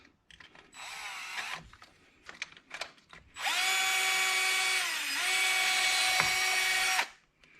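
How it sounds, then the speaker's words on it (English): A power drill with a 1/8 inch bit whirs briefly, pauses, then runs steadily for several seconds pre-drilling a hole on a 2019 Can-Am Outlander, its high whine dipping slightly as it bites, before stopping. "Pre-drill this."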